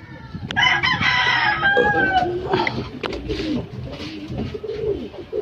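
Racing pigeons arriving at a loft after a fast tailwind race, with bird calls, cooing and fowl-like clucking and crowing mixed with wing and ambient noise, fairly loud and continuous throughout.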